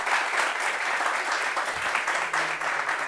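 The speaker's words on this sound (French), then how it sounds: "on applaudit pour lui, pour ce beau justicier à Jean Lachat" Audience applauding at a live show, steady dense clapping from a crowd throughout, fairly loud and close.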